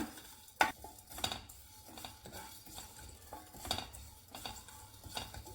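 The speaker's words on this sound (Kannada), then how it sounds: "ಈಗ ಇದನ್ನು ಒಂದು 30 to 40 ಸೆಕೆಂಡು ಚೆನ್ನಾಗಿ ಅದರದ್ದು ಮಾಯಿಶ್ಚರ್ ಹೋಗೋ ತನಕ ಹುರ್ಕೊಳ್ಳೋಣ" Black pepper and spices dry-roast in a pan, a spoon scraping and tapping against the metal in irregular stirring strokes with a faint sizzle beneath, close and fairly quiet, no talking.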